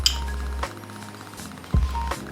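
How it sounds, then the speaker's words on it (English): A spoon cracks the caramelized sugar crust of a three-ingredient crème brûlée up close, giving sharp, crisp clinks and snaps, with a brief heavier crunch near the end. "Just breaking apart the crispy, crumbly sugar bits"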